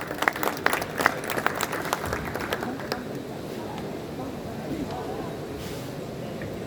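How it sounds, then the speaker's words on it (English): Audience applause welcoming a speaker at a textile trade convention in a large hall, a sustained wash of many hands clapping from a crowd, sharper claps at the start settling into steady, even applause. "Please welcome him with a huge round of applause."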